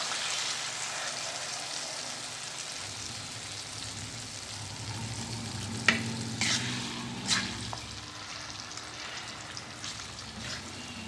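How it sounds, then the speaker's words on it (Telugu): Ground tomato chutney stirred into hot tempering oil in a home kitchen, a soft continuous sizzle with scraping and clinks from the spoon, close and without talk. "టమాటా పచ్చడి మనం ఆయిల్ ఎంత తీసుకున్నామో దాన్ని బట్టి పచ్చడి వేసి తాలింపులో కలబెట్టేసేయండి"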